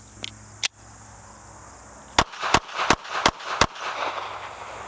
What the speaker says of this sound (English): Let's shoot these last 5 just in one magazine and see how that does.